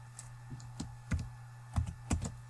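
Keys on a computer keyboard are tapped in short, irregular bursts of close, soft clicks over a faint steady hum, with no voices.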